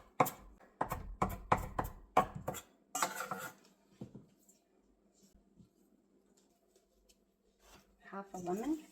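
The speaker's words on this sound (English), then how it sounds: "And a quick chop." Quick, sharp knife chops on a board cutting fresh dill, about a dozen rapid close strikes in bursts at the start, then a few softer knocks and light kitchen clatter.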